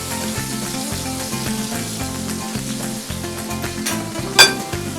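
Onion and garlic sizzle steadily in a paella pan over a low burner, a dense crackling fry with a brief sharp clatter near the end.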